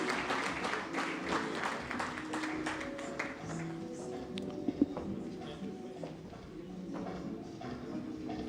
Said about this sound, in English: People, can we clap for the top leadership of the financial sector players?